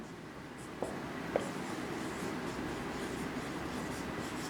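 A question is written on a classroom board: a continuous soft scratching stroke over a steady room hum, with a couple of light taps near the start.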